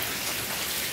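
Steady rain pours down continuously, a dense, even hiss of falling water with no breaks, filling the whole moment without any voices.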